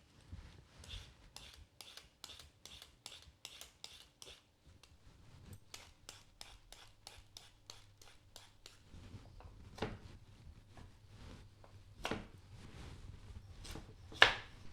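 Peeler scraping along a carrot for ribollita, a quick run of rhythmic rasping strokes up close, then slower irregular scrapes with a few sharper knocks.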